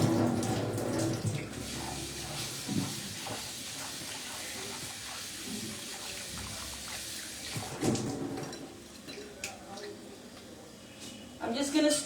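Rice for chicken biryani is rinsed in water, with splashing, swirling and running water close by, rising in short bursts, while someone talks over it.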